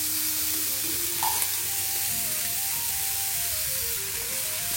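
Steamed carrots frying in a pan for a South Indian diet meal, a steady close sizzle with stirring over a faint background tone and no speech.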